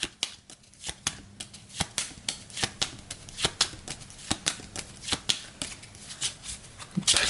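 Gaia Project Automa cards are shuffled by hand in a quick run of crisp riffling bursts, close and fairly quiet, with no voices.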